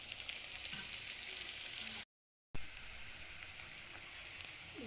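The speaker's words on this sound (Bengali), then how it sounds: "আর এখানে হচ্ছে ব্রেস্তা ভাজা" Sliced onions fry in hot oil to make crisp birista for biryani, giving a steady, close sizzle with a brief total dropout partway through before the crackling resumes.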